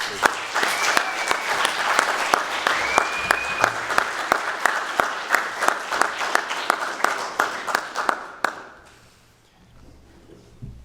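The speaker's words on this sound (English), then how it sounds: "let's all give our panelists and our keynote speaker one big round of applause" An audience applauds panelists and a keynote speaker at a workplace innovation event, a dense wash of clapping with a few louder individual claps that tapers off and fades to near silence toward the end.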